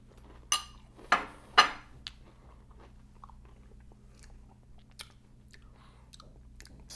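Crunchy bites of Cinnamon Toast Crunch cereal: three sharp close crunches in quick succession, then a softer one, followed by faint, quieter chewing over a low steady hum.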